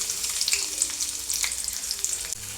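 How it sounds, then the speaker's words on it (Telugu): Onion frying in hot oil in a kadai for a Telugu-style dondakaya (ivy gourd) curry, giving a steady, bright sizzle throughout with small crackling pops, close and continuous with no talking. "ఇప్పుడు ఆనియన్ వేసుకుంటున్నాను"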